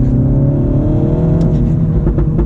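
A modified manual Mini Cooper S engine blips its revs on a downshift, a loud, close engine drone rising in pitch, with a few short sharp clicks near the end.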